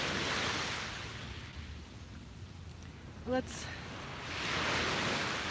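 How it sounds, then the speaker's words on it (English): Ocean waves washing onto a beach, a soft broad hiss that swells at the start and again near the end, with a brief voice in the middle. "soak in the sounds of the waves"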